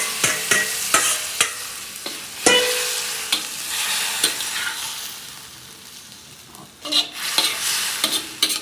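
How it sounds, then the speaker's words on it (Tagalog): Chicken adobo marinade broth going into a hot pan, sizzling and bubbling with repeated sharp clinks of a utensil stirring against the pan, close and fairly loud. "ilalagay na natin yung sabaw na pinag-marinate natin"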